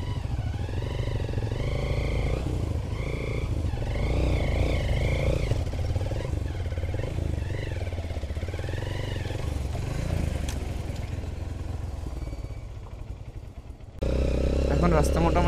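A motorcycle descends a steep dirt slope on a rough hill road between Bandarban and Boga Lake. Its engine drones steadily and close, fades slightly near the end, then suddenly returns louder.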